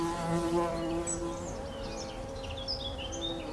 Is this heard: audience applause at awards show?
no